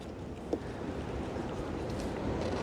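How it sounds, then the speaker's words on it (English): Steady wind whipping through an outdoor apiary during a summer hive inspection, a continuous broadband rush with microphone buffeting and a brief thump near the start, no talking. "I wonder if you guys can hear the wind right now"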